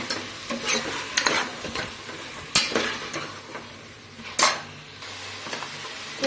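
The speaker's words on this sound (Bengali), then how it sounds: "তো সবজিটা কষে নিই।" Mixed vegetables stir-fried in oil with light spices in a pan for khichuri, a steady sizzle broken by several sharp spatula scrapes and clinks against the metal, close and loud with no talking.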